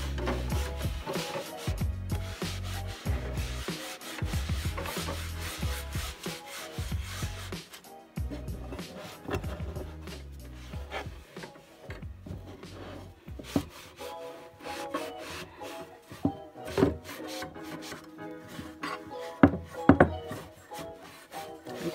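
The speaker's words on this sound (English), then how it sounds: "Just wiping off the base of the lamp just a little bit to take off the excess dust" Cloth rubbing over a lamp base on a nightstand to remove dust, a close, continuous scuffing and rubbing texture with some low thumps and handling knocks throughout, no talking.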